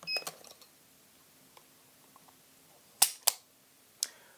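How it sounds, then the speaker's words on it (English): A Beretta 92GTS pistol being decocked gives a few faint metallic clicks early on, then two sharp, close mechanical snaps in quick succession and a final click in a quiet room. "Now we're going to decock it, and that puts it in the half cock mode"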